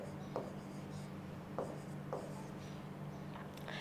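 Chalk or marker writing on a classroom board, a few short scratchy strokes spaced out over a steady low room hum, close and moderately loud with no talking.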